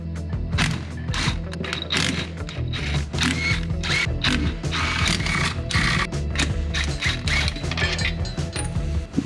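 Wrench ratcheting and metal clinks while removing bell housing bolts from a Mustang during a T5 transmission swap, a busy stream of close clicking and rattling mechanical noise throughout.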